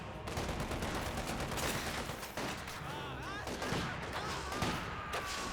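MG42 machine gun in Company of Heroes 2, firing dense bursts of rapid gunfire mixed with other battle noise, with talk over it.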